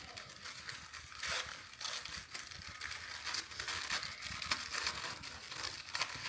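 Crinkling and rustling of multicolor wrapping paper being unwrapped from a Louis Vuitton Takashi Murakami cherry blossom scarf, in close irregular bursts of crackle with no voice.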